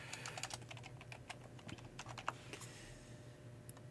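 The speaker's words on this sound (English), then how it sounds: "Let's see if we can get the keyboard to work." Quick, light clicking of keys on a computer keyboard, close and faint, tapping in irregular bursts with brief pauses and no voices.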